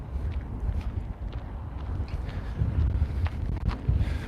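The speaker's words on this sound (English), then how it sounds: "Woo, it's a little windy." Low, rumbling wind buffets the microphone steadily, with gusty swells and faint crackles throughout.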